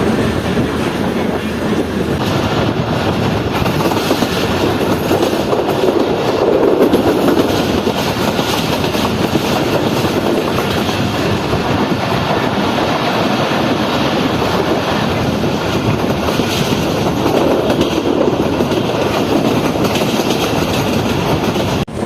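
The Karakoram Express runs at speed, giving a loud, continuous rushing roar of wheels and wind with a steady clatter underneath, heard close and without any talk.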